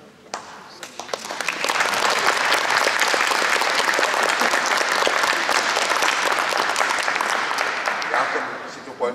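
Sustained applause from an audience at the Cena VIZE 97 award event, a dense, steady wash of clapping that swells quickly and holds loud and even for the full length.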